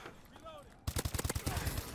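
Automatic gunfire in Call of Duty: Advanced Warfare bursts in after faint background sound, a rapid close volley of sharp shots with a quick steady rhythm lasting about a second.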